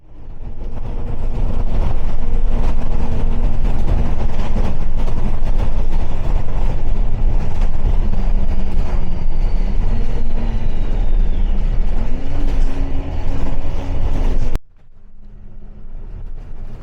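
Interior of an Arriva single-deck bus on a Hinckley local route through residential streets in Burbage, a steady loud engine drone with shifting gear tones running continuously, then cutting abruptly to a quieter idle near the end.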